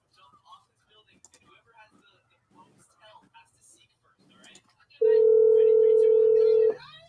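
A low, quiet voice murmurs, then a loud steady electronic telephone tone sounds for nearly two seconds and cuts off abruptly.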